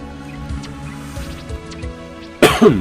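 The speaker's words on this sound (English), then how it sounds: "Yep, there's the cough." A short burst of coughing near the end, loud and close, following a stretch of quiet background sound.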